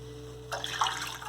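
Water is poured into a pot to make modak dough, a short splashing gush starting abruptly after a moment of low hum and running briefly at moderate volume.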